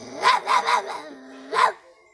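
A person imitates a dog barking: three quick close barks, a short pause with a low held tone, then one more bark, loud and alone.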